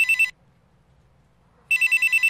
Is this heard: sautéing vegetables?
no